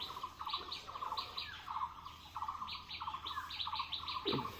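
Pigeons kept at home, fed on whole chickpeas, give a run of short, high, repeated chirping squeaks in quick bursts at moderate volume with no talking.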